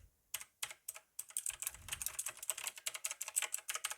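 Typing on a Razer BlackWidow X Tournament Edition Chroma mechanical keyboard: close, crisp keystrokes start sparse and then speed into a dense, steady clatter with no voices.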